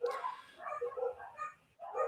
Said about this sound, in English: I've got a million dogs barking in the background because my partner will have got home and they're all excited